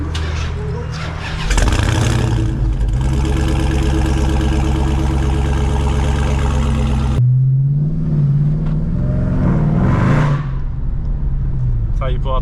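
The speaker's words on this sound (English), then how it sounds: "The car is hot now, so it should have no problem firing it up." A Dodge Hellcat's hot engine cranks and fires up with a loud bark, settling into a deep rumbling idle with revs that rise and fall, then a second start and another rev.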